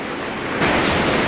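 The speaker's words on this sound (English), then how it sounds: "I'm just kind of waiting for the waves to come up and break around the front of the scene." Steady, loud roar of ocean surf breaking on a beach at sunrise, with a surge of crashing water midway and constant wind-like wash.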